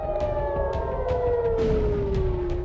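A wailing air raid siren drones continuously over Tel Aviv during an Iranian missile attack, its tone slowly falling, over a rumbling background with faint distant clatter.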